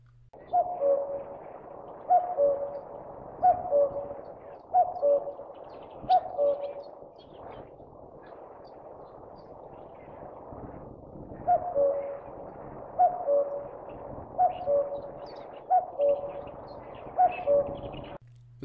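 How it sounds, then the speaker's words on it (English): A common cuckoo calls its familiar two-note phrase again and again in a steady rhythm, a clear, moderately distant bird voice heard alone, pausing midway before resuming the repeated calls. "Here's the familiar cuckoo call."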